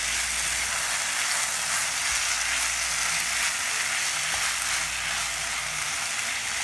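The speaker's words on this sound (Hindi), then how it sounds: "और इसमें ये पनीर ऐड कर देते हैं, इसको भी मिक्स कर लेंगे।" Homemade paneer sizzles loudly in a hot pan as it is stirred in for paneer bhurji, a dense, steady frying hiss carrying through with faint scraping, no voices.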